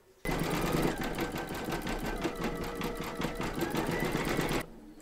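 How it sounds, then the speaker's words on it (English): An embroidery sewing machine stitches a decorative seam over an in-the-hoop crazy patch quilt block, a close, steady rapid mechanical whir running about four seconds alone, starting and stopping abruptly. "Load your thread colour for the decorative stitching over the seam into your machine, and then stitch round number 7"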